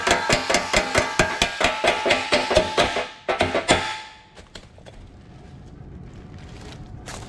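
A hammer strikes a creased, dented Harley motorcycle fender during auto bodywork, about a dozen sharp metallic whacks in a quick, steady rhythm, then a few scattered taps before the blows stop and it falls quiet.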